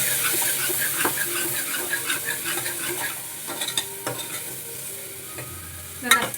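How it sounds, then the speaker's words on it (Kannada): Spoon stirring coriander and red chilli powder, with biryani masala, into a sizzling egg biryani base in a pan; steady frying hiss with irregular scraping stirs and a louder clatter near the end, no talk. "ಇವಾಗ ಇದು ಮಿಕ್ಸ್ ಮಾಡ್ತೀನಿ"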